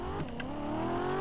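The upgraded Muskel Dreadnought E6 car in the video game Vehicle Legends, its engine with a new transmission revving: a short, steady engine drone that rises slightly in pitch, with a couple of brief clicks early on.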